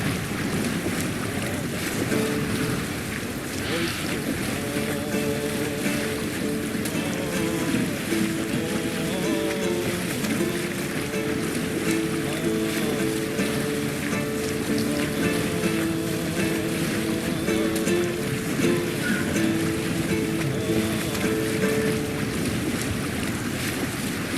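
Ships under sail at sea in Assassin's Creed Valhalla, a steady wash of waves, wind and creaking hull that roars on unbroken and loud throughout, with no voices over it.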